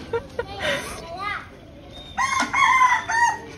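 Chickens and a rooster crowing out on a street in Bacalar, Mexico, with a short crow early and a longer, louder crow later, heard over faint outdoor background and some voices.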